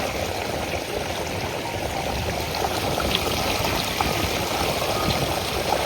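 Water rushes out steadily once the village water supply is switched on. A constant, full hiss of flowing water holds at one level throughout, fairly close and with no voices.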